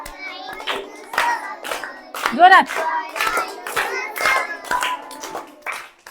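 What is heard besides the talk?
children clapping hands during a poem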